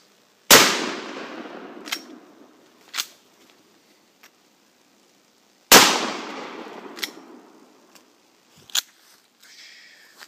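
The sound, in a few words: gunshots fired, more rounds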